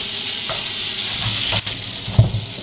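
Lemon sauce mixture sizzling and frying in a pan in a small cabin kitchen, a steady close crackle with faint stirring clinks, no talking.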